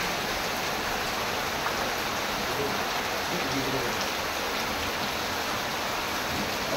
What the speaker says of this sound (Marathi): पण आज मस्त पाऊस पडतोय.